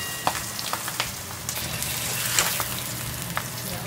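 Milkfish (bangus) frying in a pan, a steady close crackling sizzle with scattered sharp pops of spitting oil, continuous and fairly quiet throughout.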